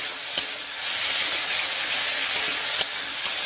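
Tomatoes with turmeric and salt fry in a pan, giving a steady, dense sizzle and hiss with a few soft stirring knocks, close and unbroken, no talk.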